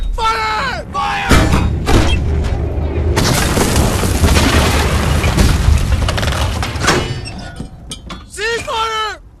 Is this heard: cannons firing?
yes